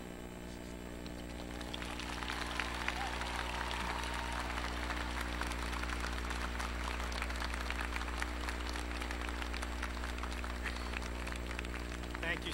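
Commencement ceremony audience applauding a speaker, a sustained dense wash of clapping that swells in after a quieter start and holds steady to the end, with a low hum underneath.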